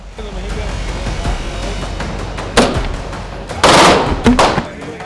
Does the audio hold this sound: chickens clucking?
no